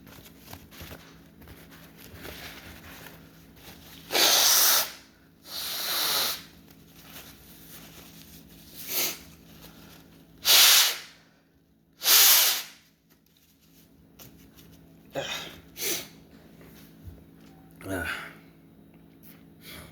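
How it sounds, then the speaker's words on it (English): Several loud, hissing nose blows come in bursts, with quieter sniffs and breathy noises between them against a low background hum. "Blowing my nose in the middle of the video is gross"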